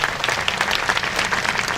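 Audience applauding fire chiefs at the 19th Annual Lake Tahoe Summit, a steady wash of many hands clapping at moderate volume with no voices over it.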